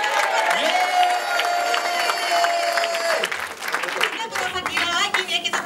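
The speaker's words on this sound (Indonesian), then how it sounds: "Tepuk tangan dulu dong buat Anda semua." A crowd of alumni at a ten-year reunion gathering claps loudly and cheers, the applause fading after a few seconds into scattered voices and chatter.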